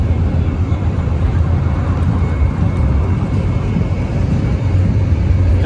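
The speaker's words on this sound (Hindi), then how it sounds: "वही पुलिस का हेलीकॉप्टर है।" A police helicopter at the Dubai Airshow 2023 gives a loud, steady rotor and engine roar, continuous and close throughout with no talk heard.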